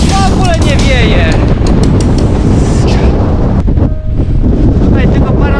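Strong wind gusting across an exposed mountain ridge in the Bieszczady range, a loud steady roar buffeting the microphone throughout with a brief dip near the end, voices faintly mixed in.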